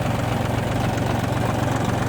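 A blue ISEKI TU200 mini tractor with a Japanese engine idles steadily, a loud, even low chugging with a regular knock-like pulse throughout, close by and with no voices.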